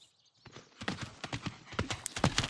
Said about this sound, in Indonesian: Bo, kudanya lari, Bo.